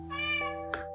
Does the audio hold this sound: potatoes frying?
no